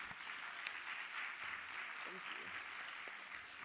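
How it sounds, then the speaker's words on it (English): Audience applause for panelists leaving the stage at a Nairobi tech week event, a faint continuous patter of clapping with a few murmured voices underneath. "We continue clapping until they sit."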